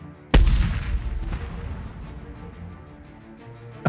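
Explosion aboard the Russian battleship Rättvisa in the Russo-Japanese War, rendered as a sound effect: one sudden loud boom followed by a long rumbling decay, with a fainter thud at the very end.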